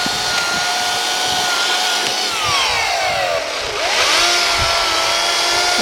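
A Greenworks Optimus OCS800 28-inch battery chainsaw runs with a steady electric whine, loud and continuous, with pitch sweeping down and back up as the chain loads and frees.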